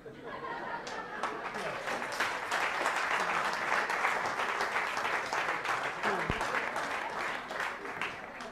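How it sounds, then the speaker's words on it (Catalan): Sustained applause from a conference audience in an auditorium, steady and full for several seconds, with some chatter mixed in. "Segurament poc s'ho pensa el regidor de Jaume Bel d'Obres que avui l'estem aplaudint"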